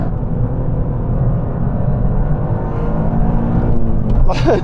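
A Toyota GR Yaris is driven hard on a race track, its engine roaring steadily and loudly throughout, with a voice mixed over the engine noise.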